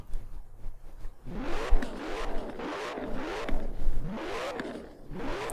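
Koenigsegg Jesko hypercar in the video game Forza Horizon 4, its engine revving repeatedly in rising and falling sweeps, loud and close with no talk over it.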